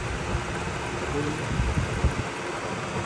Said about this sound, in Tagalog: Ito naman yung blower niya, ayan oh.